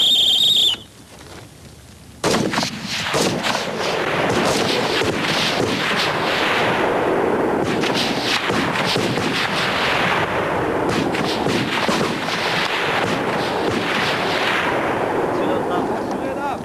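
Repeated rifle shots from soldiers on a military firing range, sharp cracks in a steady irregular volley, loud and close, starting after a short whistle and continuing without pause.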